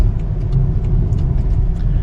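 A BMW X3 35i M Sport cruises at highway speed on the approach to a road tunnel, giving a steady, close rumble of engine and road noise that runs evenly throughout, with no talking.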